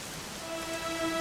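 Steady rain in Dragon Quest XI, a continuous soft hiss of falling drops with faint tonal music underneath.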